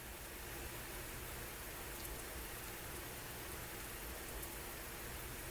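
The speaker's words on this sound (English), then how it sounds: "The weather is quite heavy rain, as the tooltips tells us here." Heavy rain falling steadily over a Civil War battlefield at Perryville, a dense, constant hiss of downpour without pause or variation, with no voices.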